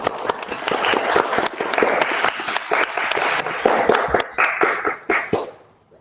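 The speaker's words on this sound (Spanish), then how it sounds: "acá están aplaudiendo, así que te agradecemos" An audience applauds at the close of a podcast talk about the Malvinas War, dense close clapping that holds strong and then thins out and fades away at the end.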